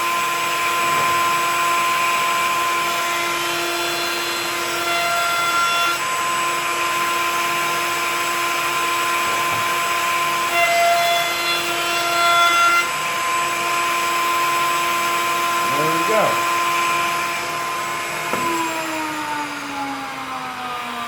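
A wood router rounding over the edges of a footstool, a loud, continuous high-pitched whine that holds steady throughout, with subtle shifts in tone as the bit cuts along the wood and no talking.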